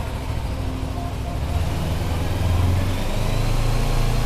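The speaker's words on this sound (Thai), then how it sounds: "มาเรามาดูรอบเครื่องกันหน่อย" A yellow 2015 Kawasaki Z300 motorcycle engine runs steadily and rises slightly in revs, a continuous loud, close mechanical drone with no breaks.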